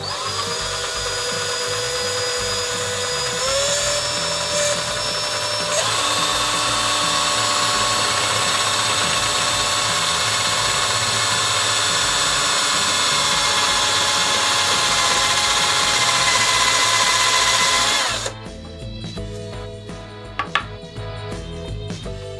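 A power drill bores a hole through an oak bird house ornament, starting small and going larger, with a loud, continuous high whine that shifts pitch once early and runs for about eighteen seconds before cutting off into quiet handling noise.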